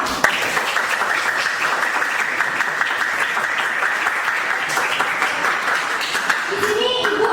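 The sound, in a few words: applause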